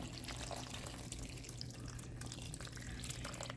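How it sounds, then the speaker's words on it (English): Water pours into a crock pot holding beef broth for a steak meal, a faint steady trickle with a low hum underneath. "I'm just going to fill this up with just a little bit more of water"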